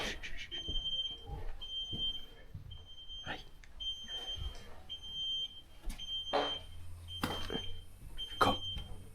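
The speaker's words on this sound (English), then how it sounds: "The beeping's coming from that way." Intermittent high electronic chirp from a smoke detector, repeating in short regular beeps through an empty, abandoned hospital, heard at a distance amid footsteps, knocks and faint movement with a few brief voices.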